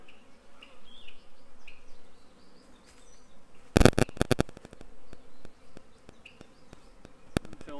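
Honey bees hum and drone softly around an open hive during a queen installation, with a burst of sharp clicks and knocks partway through, then continued quiet buzzing.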